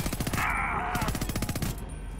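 Rapid automatic gunfire from a gun in Homefront: The Revolution, loud and close, firing in sustained bursts with a brief lull mid-stream.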